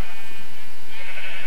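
A Minecraft sheep bleats once in a drawn-out, nasal call, loud and close, with no talking over it.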